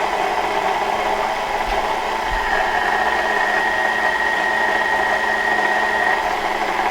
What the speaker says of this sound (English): I have the dough hook on my mixer